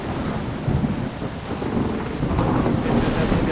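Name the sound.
rain starting with thunder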